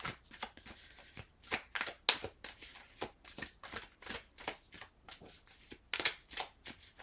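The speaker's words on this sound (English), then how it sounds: "Let me get the rest of your cards here." Tarot cards are shuffled by hand in a steady run of quick, crisp riffles and soft slaps, close and clear, with no voices.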